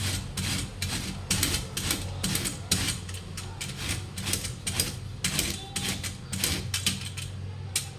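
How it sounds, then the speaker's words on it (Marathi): Raw green mangoes grated lengthwise on a medium grater give a steady, rhythmic rasping scrape, close and loud, repeating in quick strokes with no talk over it. "अशी कैरी उभी ठेवायची आणि लांब लांब किसून घ्यायचं"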